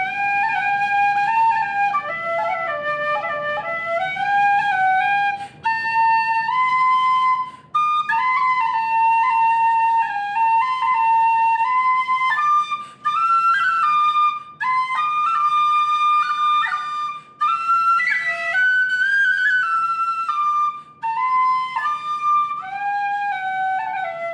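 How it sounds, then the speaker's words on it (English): A high D tin whistle plays a lively melody alone, with clear bright sustained notes, short breaths between phrases, and ornamented runs, close and fairly loud. "I'm gonna demo you the high D whistle for you now."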